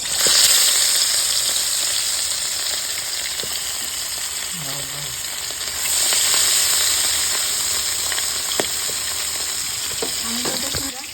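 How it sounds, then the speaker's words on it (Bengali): Puti fish fry in hot oil, a dense bright hiss that swells near the start and again midway, with a few faint clicks of a utensil, close and steady with no talking. "তেল গরম হয়ে গেছে মাছগুলো ভেজে নেবো"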